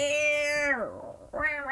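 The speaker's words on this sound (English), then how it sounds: "Every night, that cat thing's on the fence." A cat on a fence at night lets out a drawn-out meow that slides downward, then starts another, close and fairly clear.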